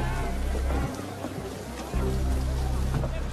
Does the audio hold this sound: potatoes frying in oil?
no